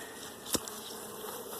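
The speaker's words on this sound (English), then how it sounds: "I just shake the bees off" Honey bees buzz in a soft, steady hum as they are shaken off a hive frame during honey pulling, with one brief sharp knock or thump in the middle.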